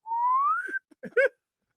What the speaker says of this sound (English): he's got like one of those slide whistles.